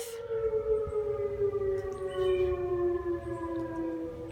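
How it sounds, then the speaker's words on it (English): A tornado warning siren sounds during a scheduled test in Weakley County, a sustained wailing tone that holds steady and carries from a distance over quiet surroundings. "And now listen to what the tornado siren has to say next."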